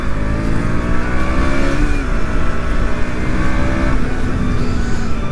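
A KTM Duke 200 BS6 motorcycle ridden at full power, its engine droning loud and steady with rising and falling pitch as it accelerates, under rushing wind noise throughout.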